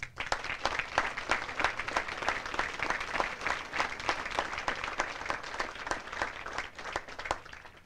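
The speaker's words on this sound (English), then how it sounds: "please join me in giving our awardees a round of applause" Applause at an Army advanced camp graduation ceremony for the awardees, a moderate crowd clapping steadily with distinct individual claps audible throughout, fading slightly at the end.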